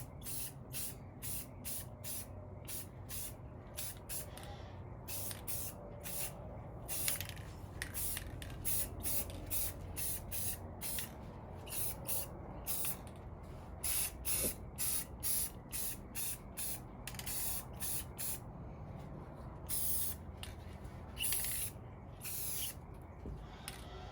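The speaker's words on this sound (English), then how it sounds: "so now just put a clear coat on and wait for it all to dry" Repeated short bursts of aerosol clear coat sprayed onto a custom Beyblade launcher, a steady rhythm of close hissing puffs with no talk.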